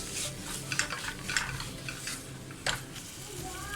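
Tomato being sautéed in a pan produces a close, steady sizzle and hiss, with repeated scraping stirs and a distinct metallic clink partway through, and no one speaking.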